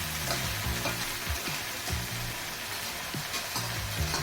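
Fenugreek leaves sautéing in hot oil with no spices added, a steady loud sizzle and crackle filling the whole stretch, broken by repeated stirring scrapes.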